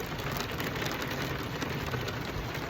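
Steady rain falling during a thunderstorm, a dense even hiss of drops on surfaces lasting throughout, moderately loud and without any voices.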